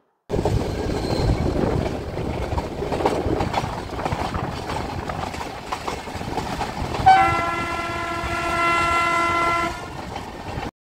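The Ooty toy train creeps slowly along a hilltop route with a steady rumbling roll, then gives one long, loud horn blast partway through that holds for a couple of seconds before cutting off.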